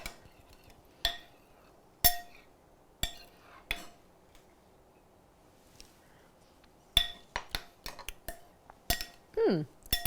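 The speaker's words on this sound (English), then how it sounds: "Then maybe a tablespoon of olive oil. Maybe that was like more like 2. So I'm just going to stir this up." A spoon clinks against a bowl as pizza sauce with olive oil is stirred, giving sharp isolated taps spaced about a second apart, then a quicker cluster of clinks and scraping toward the end, close and fairly quiet.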